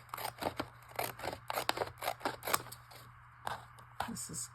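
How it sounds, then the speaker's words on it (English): Ripple scissors snip through green paper in a quick series of crisp cuts, close and fairly quiet, with a steady low electrical hum underneath and some soft talking around the snips. "I'm going to use my ripple scissors on this green"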